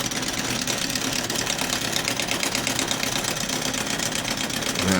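A Frankenstein vertical hybrid steam engine, an Ernst Plank Excelsior Falk build, runs close up with a loud, fast, steady mechanical clatter and chuff, unbroken throughout with no talking.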